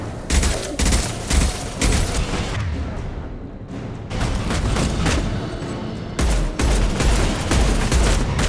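Heavy weapons fire in the sci-fi game Mass Effect 2: dense, loud bursts of rapid shots in several volleys, broken by a brief lull midway before the barrage resumes.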